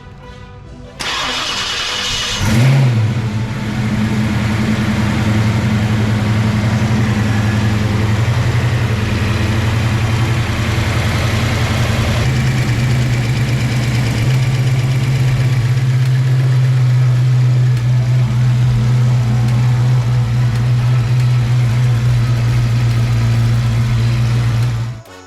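A car engine with a loose passenger-side rocker cranks and catches, then settles into a loud, steady idle as it warms up, running close and continuously for the rest of the stretch.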